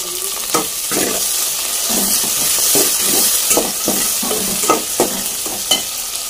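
Tomatoes and green chillies frying with onions in a hot pan, a steady loud sizzle with repeated spoon strokes scraping through the mixture.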